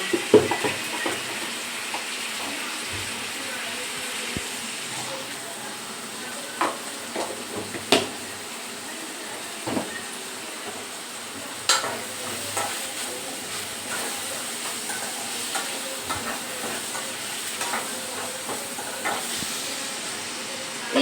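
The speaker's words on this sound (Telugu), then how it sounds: "ఆనియన్స్ మగ్గుతేగా సాల్ట్ వేసుకున్నాను" Onions frying in a pan with salt added, a steady soft sizzle and hiss running throughout, broken by scattered clinks and scrapes of a spoon stirring against the pan.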